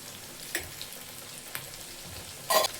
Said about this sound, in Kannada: ಇಷ್ಟನ್ನು ನೀಟಾಗಿ ಫ್ರೈ ಮಾಡ್ಕೊಳ್ಳೋಣ.